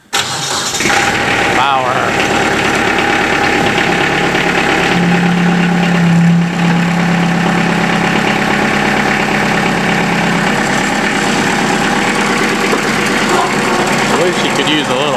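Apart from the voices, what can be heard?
diesel engine with glow plugs starting and idling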